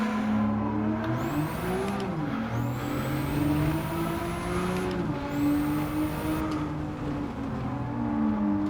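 A race car in Gran Turismo 7 brakes and downshifts repeatedly, engine pitch dropping and blipping through gears with high whining sweeps, loud and close, no talk.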